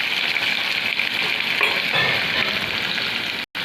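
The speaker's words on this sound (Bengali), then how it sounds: "এবার পেঁয়াজগুলো দিয়ে দিলাম। পেঁয়াজগুলো একটু লাল লাল করে ভাজবো।" Onions frying in hot oil with a bay leaf, a loud continuous close-up sizzle with a few soft stirring scrapes and no voices.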